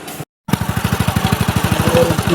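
A motorcycle engine starts after a brief silence and runs close and loud with a fast, even chugging pulse, heard alone without speech.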